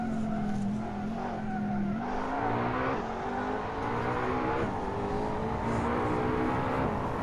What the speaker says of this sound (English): You can just faintly hear Shadow's car there for a moment